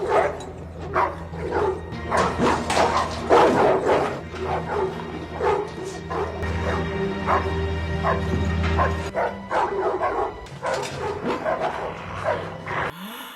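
A group of dogs in a cage in a fantasy TV drama scene bark, yip and whimper continuously, with overlapping sharp barks over a low rumbling background.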